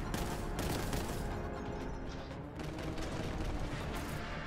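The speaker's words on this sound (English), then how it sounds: "I might just shoot you from here then." Dense, continuous gunfire from the Warhammer 40k: Boltgun video game roars throughout, heavy rapid bolter shots and explosions layered together without pause.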